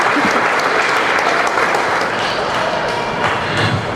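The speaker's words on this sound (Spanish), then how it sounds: "Vamos a recibirlos con un aplauso a Jorge y a Lourdes" A church congregation claps together in sustained, dense applause at an evening service, loud and steady throughout with no talk over it.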